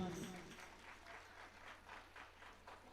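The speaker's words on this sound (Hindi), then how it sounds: "हेमलता दीदी ने राम नाम की प्याली, तो सम्मान में बजाओ एक बार जोरदार ताली।" An audience at a women's Ramayana recital gathering in Umargaon claps steadily, with a dense wash of applause that continues evenly throughout.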